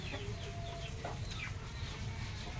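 Chickens cluck close by on a farm, a cluster of short calls over a steady low background rumble.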